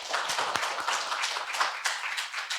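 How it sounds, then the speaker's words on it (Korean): Audience applause welcoming a speaker to the stage at a university lecture event, a dense, steady patter of many hands clapping throughout with no voices over it. "큰 박수로 맞이해 주시죠"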